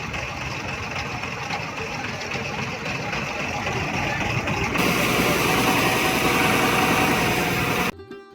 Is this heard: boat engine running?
yes